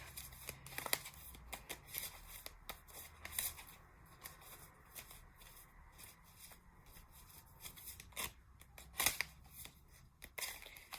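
A tarot card deck being shuffled by hand in a quiet room, a run of soft papery riffles and flicks with sharper bursts scattered through, close and fairly faint with no talking.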